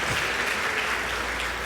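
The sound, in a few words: applause for the Lord in church service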